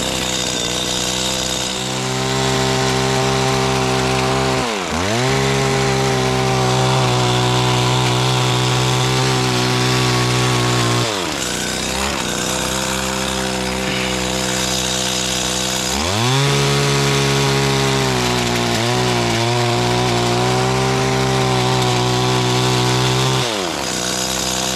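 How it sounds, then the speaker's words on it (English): A Stihl FS85 gas-powered hedge trimmer running loud and close while cutting overgrown bushes, its two-stroke engine droning steadily with repeated dips and revs as the load changes. "Okay, as you can see, we got the hedge trimmer up and running."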